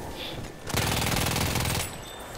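Gunfire in Battlefield 1: a loud, sustained burst of rapid automatic fire, close and dense, lasting just over a second over steady background battle noise, then dropping back.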